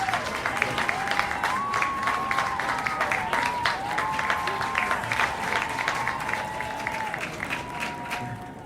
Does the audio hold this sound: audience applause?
yes